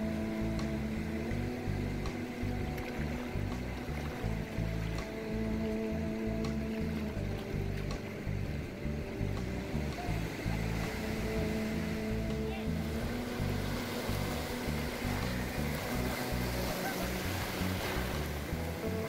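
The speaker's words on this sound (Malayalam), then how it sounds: "വീണ്ടും തിരകൾ കരയ്ക്കിലേക്ക് വരുന്ന സമയത്ത് വീണ്ടും അവർ ബോട്ട് വലിച്ചെടുക്കും" Sea waves wash onto a fishing-village beach near Visakhapatnam, Andhra Pradesh, where fishing boats are hauled ashore, giving a continuous soft surf roar with a low rumbling undertone and no talk in the clip.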